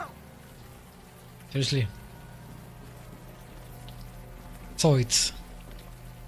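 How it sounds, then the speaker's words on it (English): Warm rain falls steadily in the adventure game Unavowed, an even hiss that runs underneath the whole stretch while a voice briefly speaks twice. "the warm rain is coming down"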